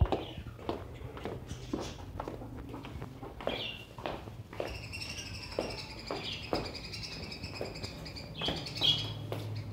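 Pet budgerigars chirp inside a cage indoors: quiet, scattered short tweets that pick up in the second half, mixed with soft thumps and rustling.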